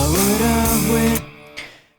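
Distorted electric guitar chords through an amp simulator plugin ring out thick and loud for about a second, then cut off, followed by a short decaying tail.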